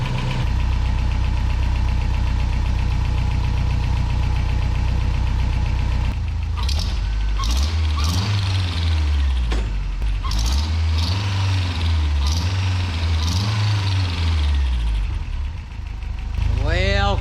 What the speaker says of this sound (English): you can hear that exhaust leak like flowing through the exhaust almost